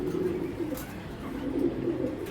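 A young pair of black racer pigeons coo in low, throaty, rolling murmurs, steady and close, with a few brief pulses rising over the continuous burble.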